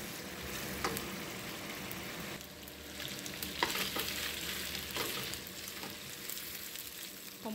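Beef and potatoes browning in a pan, a soft, fairly faint steady sizzle with occasional stirring scrapes throughout.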